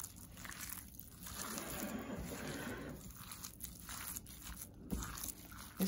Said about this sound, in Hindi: इसको अच्छी तरह से मिक्स करना है आपने।